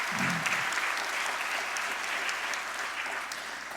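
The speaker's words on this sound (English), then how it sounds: "how about a round of applause for that?" A concert audience breaks into sustained applause, dense steady clapping from a large crowd that stays loud for the whole stretch and barely tapers off, with a brief voice at the very start.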